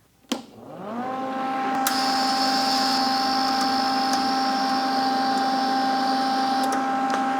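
A vintage Lincoln welder feeding wire from a jamming spool: a sharp click, then a steady mechanical whir and buzz with several sustained tones that rises quickly and holds loud and close to the end, with no speech.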